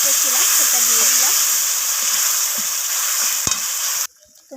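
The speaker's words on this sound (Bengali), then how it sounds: "এরপর যে মশলার পেস্টটা বানিয়ে রেখেছিলাম সেটা দিয়ে দিলাম।" Spice paste for a rohu fish masala curry frying in hot oil, a loud steady hiss and sizzle close up with a few stirring knocks, while a voice talks faintly underneath.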